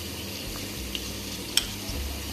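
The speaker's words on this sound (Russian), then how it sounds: "Слегка обжарили сухофрукты в масле." Soft steady sizzling of dried fruit frying in oil for Easter pilaf, with a faint clink or two of a utensil against the pan.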